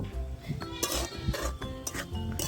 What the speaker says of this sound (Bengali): আস্তে আস্তে কষাতে থাকবো